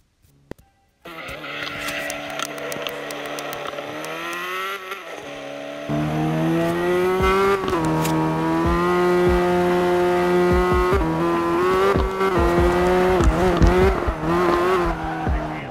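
Race car engine in the CarX Drift Racing video game, starting after a second of near silence, then revving with rising and falling pitch and stepping up louder midway, with tire squeal layered in, loud and continuous without talk.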